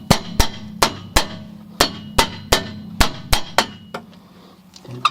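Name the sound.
hammer tapping brake drum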